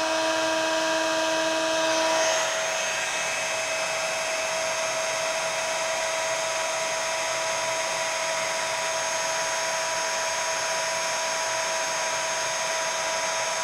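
A heat tool blows hard and steadily while melting thick embossing powder from the back of a craft piece, a loud continuous whir that shifts slightly in pitch early on and then holds without talk.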